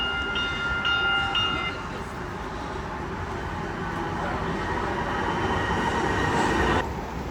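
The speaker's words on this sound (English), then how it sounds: "And here comes the northbound train." Sound Transit light rail train pulling into an elevated station on the 2 Line, a steady rumbling roll with rail squeal and a brief high tone early on, fairly loud and continuous in open air.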